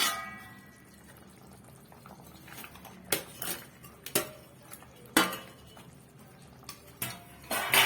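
Fish goes into a pot of cauliflower and potato curry with a run of sharp metallic clangs and clinks of utensils against the pot, spaced irregularly over a quiet kitchen background, with no talking.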